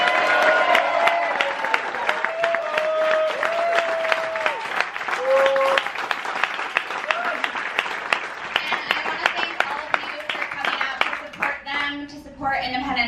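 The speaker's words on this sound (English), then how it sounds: "Get one final round of applause for all of you." Audience applause and cheers after a television screening and Q&A, a sustained round of clapping from a small crowd, with a few voices and whoops over it before it thins out near the end.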